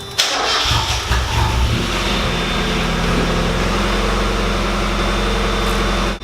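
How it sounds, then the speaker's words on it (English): A Mazda Miata engine starts with a brief cranking whir and catches, then settles into a steady, loud idle that runs on without talk. "we're gonna go ahead and turn the car on and put the heater on full blast"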